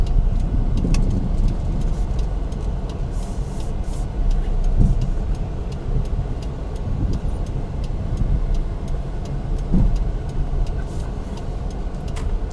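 Mitsubishi Lancer car with a replaced steering wheel driving on a road in second gear, giving a steady, close engine and road rumble with occasional low thumps and no speech.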